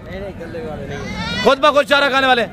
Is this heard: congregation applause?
no